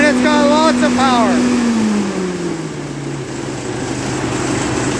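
A 1949 Ferguson TE20 tractor engine runs steadily at a choppy idle, a low continuous drone close by, with someone talking over it early on as the engine note slowly drops in pitch.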